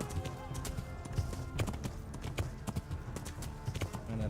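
Horse hooves clip-clop steadily at a trot in the medieval video game Kingdom Come Deliverance, a close, rhythmic stream of hoof falls with a brief whinny and a voice speaking faintly over it.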